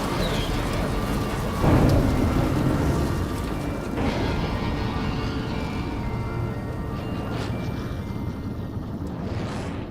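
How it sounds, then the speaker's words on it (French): Cartoon thunderstorm effect for a salt storm in an animated space adventure, heavy continuous rain with rolling thunder and a loud crack near the start, sustained and dense throughout. "Oh mince, un orage de sel."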